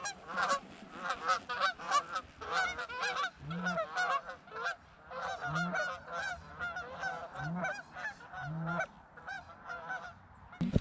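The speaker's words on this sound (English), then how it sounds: "More geese coming." A flock of Canada geese honks overhead during early goose season, with many overlapping nasal calls rising and falling, fairly loud and continuous. Occasional low murmurs from hunters sit beneath the chorus.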